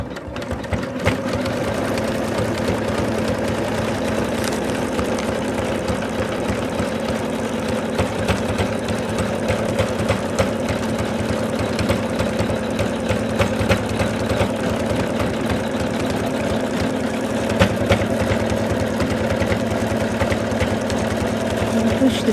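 A sewing machine stitches the fabric of a Santa doll in one long, unbroken run, its close motor hum and fast needle chatter staying loud and even throughout, with a voice heard now and then.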